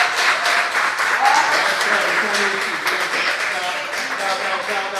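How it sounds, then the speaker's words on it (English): An audience at a leadership tour event applauds, a dense wash of clapping under spoken voices for a few seconds. "Give yourselves a round of applause."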